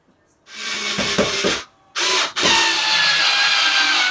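A power drill drives screws into a wooden rattan nightstand with two drawers during assembly, heard up close in three whirring bursts of varied length with short pauses and no talking.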